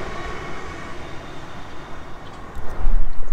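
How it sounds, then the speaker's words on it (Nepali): A train rolls past nearby in London as a low, heavy rumble that swells and grows louder toward the end, with no speech. "अगाडि निर रेल सरार जाने रहेछ"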